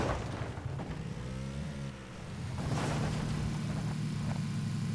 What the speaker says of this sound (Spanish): hay un buggy a por el crate